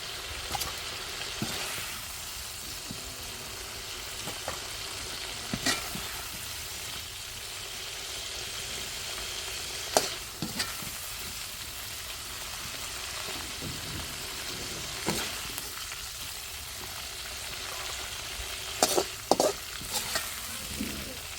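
Meat frying in a pan, a steady broadband sizzle with stirring scrapes and occasional sharper clinks and pops throughout, no talking.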